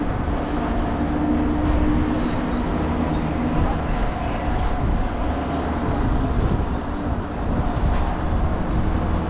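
Inside a moving passenger train in Georgia, a steady loud rumble of wheels and carriage noise rolls on continuously without a break.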